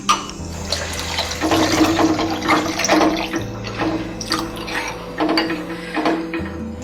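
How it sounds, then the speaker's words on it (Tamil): Water splashes and pours unevenly into a pot while making dal rasam, with clattering and a low background hum throughout. "தேவையான அளவு தண்ணி ஊற்றிக்கலாம்."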